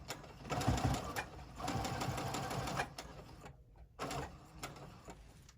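A sewing machine stitches a fabric face mask in fairly quiet, rapid bursts, pausing briefly between runs as the fabric is turned and back-stitched, with soft handling noises close by.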